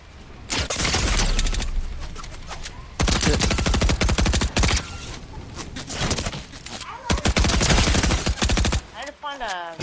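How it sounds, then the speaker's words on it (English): Gunfire in Fortnite: loud bursts of rapid automatic shots come in several clusters, separated by short gaps, with a player talking at times between the volleys. "I'm getting shot at"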